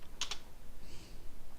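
Two quick computer keystrokes tapped close together while setting a Spanish keyboard layout in a Linux terminal, crisp and near, followed by a faint soft rustle against quiet background noise.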